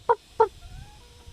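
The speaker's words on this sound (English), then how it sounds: "Chicken cam." Two short, clear clucks from a nearby chicken, followed by quiet background noise with a faint whistle-like tone.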